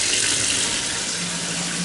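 Water gushes from a kitchen faucet turned all the way to hot into a stainless steel sink under strong pressure, a loud, steady, close rush with no talking.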